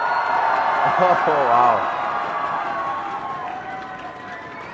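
A home crowd cheers and roars at a League of Legends esports grand final, CLG versus TSM at IPL4, a loud sustained swell that fades slightly while a commentator speaks over it.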